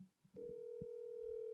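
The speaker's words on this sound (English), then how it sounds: "let me dial this number" A telephone emits a steady, clear dial tone that starts after a brief soft click and holds at an even level to the end.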